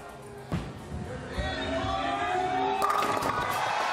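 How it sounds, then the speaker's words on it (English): Crowd noise at a PBA bowling playoff match, a steady low murmur of spectators that swells into louder cheering toward the end, with a few sharp bursts along the way. "You can hear the crowd."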